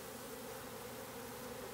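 Honeybees at a hive, fanning their wings to signal that the queen is inside, make a steady, dense buzzing that holds evenly throughout, close by and without voices.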